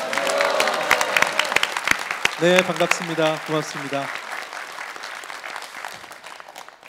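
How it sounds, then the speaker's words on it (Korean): A live audience at a televised Incheon town-hall event with the mayor applauds, a dense patter of many hands that swells and then fades gradually while a host speaks briefly over it. "다 같이 한번 박수 치면서 함께 인사할까요?"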